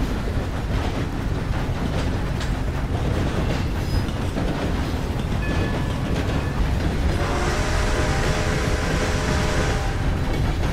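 A train in Red Dead Redemption 2 rolls along the rails with a loud, steady rumble and rhythmic clatter of wheels, joined partway by a higher metallic squeal. There is no talk over it.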